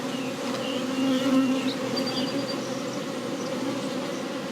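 Many bees buzzing close by in a dense, steady drone, with a few individual insects whining past, and no voices.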